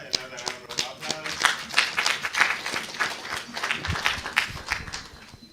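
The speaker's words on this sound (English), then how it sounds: "Another round of applause." An audience at a talk on gender norms and unpaid care work in Uganda applauding a professor, sustained brisk clapping with rhythmic peaks, fairly close, with speech over it.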